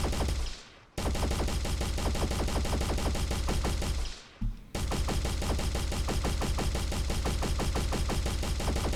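Sustained rapid automatic gunfire from the Kovaak aim trainer game, loud and continuous, broken by two brief pauses before resuming at the same relentless pace.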